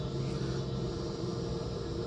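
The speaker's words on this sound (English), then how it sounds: "I got the dryer going and I'm right here by the vent." A clothes dryer running steadily right beside its vent, giving a faint, continuous low rumble with a flat, unchanging hum and no voices.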